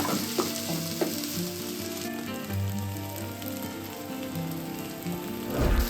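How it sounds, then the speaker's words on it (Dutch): Sliced chestnut mushrooms sizzle steadily in a hot pan, a dense, even frying hiss, close and continuous, with a stirring scrape near the end. "Zo, voeg de champignons toe. En die laat ik ook weer even lekker meebakken."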